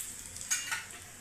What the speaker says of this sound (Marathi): सुकी लाल मिरची घेतलेली आहे 2, आणि तिचे तुकडे करून घेतले ते घालते।